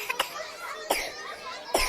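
A child with a lingering cough coughs three short times, spaced about a second apart, close and fairly loud against a quiet background.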